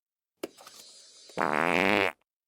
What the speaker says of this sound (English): It's like a clock, except it makes fart noises.